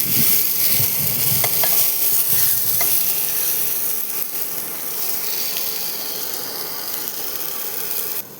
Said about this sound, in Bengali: তো এখানে আমি পটল আর বেগুনগুলো দিয়ে দিয়েছি।